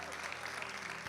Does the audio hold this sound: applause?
yes